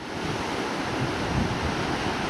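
Choppy seas crash below the Point Avoid lookout, Coffin Bay National Park, forming a constant loud wash of surf with gusting wind noise and a slight swell midway.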